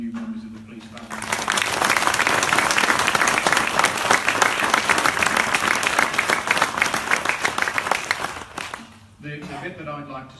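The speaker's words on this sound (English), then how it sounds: "can we just have another round of applause for 13 new members of the police family?" Enthusiastic applause from an audience greeting thirteen new police recruits, swelling after a brief spoken lead-in, sustained and loud, then fading as a voice resumes speaking near the end.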